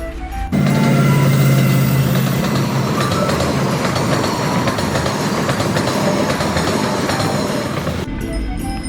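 A train rumbles past a closed railway crossing gate, loud and close, its wheels clattering rhythmically for several seconds before the noise stops abruptly.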